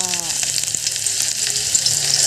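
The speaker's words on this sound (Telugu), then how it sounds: "పాన్లో ఆయిల్ వేసి వీటన్నింటిని వేసి చక్కగా ఫ్రై చేసుకోవాలి" Garlic, onion, green chilies and curry leaves fry in oil in a pan for veg manchurian, making a loud, constant bright sizzle with a few faint stirring clinks, close and without speech.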